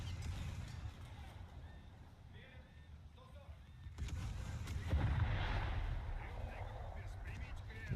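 Naval gunfire in War Thunder aimed at the player's ship: muffled, rumbling booms over a steady low drone, with a heavier burst midway.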